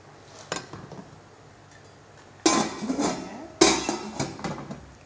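A lid and a big cooking pot of freshly washed spinach clatter and clank. There are a faint knock early on, then two loud metallic bursts with rattling that rings on for a second or so, close by in a quiet kitchen.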